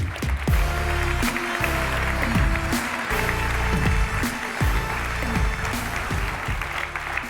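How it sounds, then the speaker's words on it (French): An audience at an award ceremony in Geneva applauds steadily and loudly, a dense wash of clapping with background music tones running underneath throughout. "On peut l'applaudir,"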